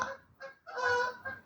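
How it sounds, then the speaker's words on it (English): Several geese honk in bursts as they fly over a house, heard through an open door; calls are clear and fairly close, with a short gap before a louder, longer run of overlapping honks. "It was the geese flying over the house"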